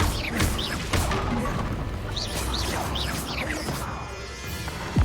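In Hogwarts Legacy, a Bombarda explosion spell goes off amid a busy fight, with a crashing smash, repeated thuds and scattered whooshing effects over several seconds and a sharp hit at the very end.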